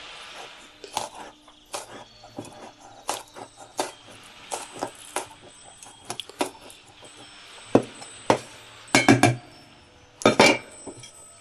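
A kitchen knife chops peeled garlic cloves on a board, giving sharp, irregular taps that grow denser and louder toward the end, with a few light clinks and no talking.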